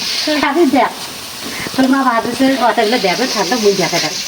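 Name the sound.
garlic and spices frying in oil for potato bhaji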